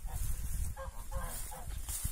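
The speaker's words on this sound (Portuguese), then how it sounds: "os gansos veio lá do Gaspar" Geese honk in a simple backyard chicken coop, a few short nasal calls close by over rustling farmyard background noise.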